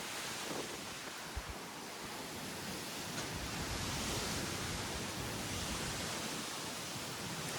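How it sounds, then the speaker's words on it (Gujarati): Strong wind blowing steadily outdoors after a night of heavy rain, a constant broadband roar with gusty buffeting on the microphone, no voices. "અને આજે પવન તો જુઓ ગાઈસ"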